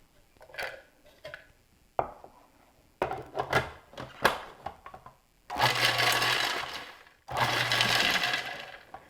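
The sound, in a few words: food processor pulsing chopped bacon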